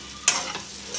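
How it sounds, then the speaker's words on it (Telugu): Egg fried rice with soy sauce and vinegar being stirred in a hot pan, a quick scrape followed by soft sizzling and light stirring sounds, close and fairly quiet. "ఇవి కూడా బాగా పట్టేలాగా కలుపుకోవాలి"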